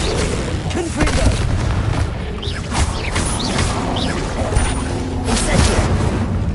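Blasting-spell explosions from Hogwarts Legacy boom and crash repeatedly amid combat clatter, fairly loud and close, with a voice speaking over the action.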